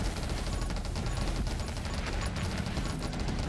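Rapid, continuous gunfire from the top-down survival shooter 20 Minutes Till Dawn, a dense unbroken stream of shots at steady loudness with no voices.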